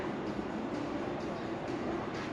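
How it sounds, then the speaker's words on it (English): A train rumbles past behind a moving car as a low, steady, fairly faint roar with no distinct clatter, heard in Australian coal-mining country. "There's a train behind you."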